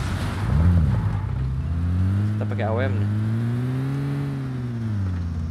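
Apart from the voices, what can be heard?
car engine revving in PUBG video game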